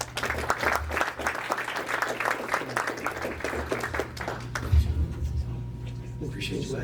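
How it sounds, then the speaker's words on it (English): Audience applause for a Greenbrier County Commission candidate at a meet-the-candidates event in Lewisburg, West Virginia, moderate clapping from a modest crowd that fades after a few seconds as talking and microphone handling take over. "Give him a round of applause."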